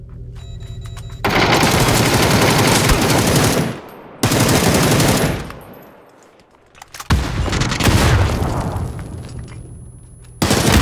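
Bursts of automatic gunfire in the battle royale game PlayerUnknown's Battlegrounds, with two long loud sustained volleys, a lull, then another heavy burst and a final shot, all close and without talk.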